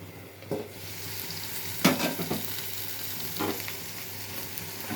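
Tomatoes for coconut chutney cook under a lid in a pan, making a constant moderate sizzle with a few brief clinks and stirring knocks, and no voices.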